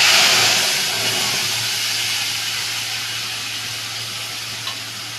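A paste of cumin, ginger, green chilli and pointed gourd seeds hitting hot oil with tempered cumin, a loud hissing sizzle at first that settles into a steady, slightly fading fry up close, no one speaking.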